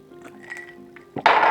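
Water is poured into a glass, a short close gush of splashing that follows a faint clink and a soft thunk of handling.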